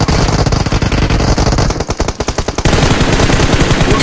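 Loud, close automatic gunfire in a video game, long rapid bursts of shots that briefly thin out midway before a dense stream resumes.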